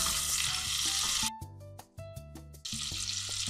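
Flour sizzles and fries in melted butter for a béchamel sauce, a steady bright crackling hiss broken midway by a few clinking stirs before the sizzle returns.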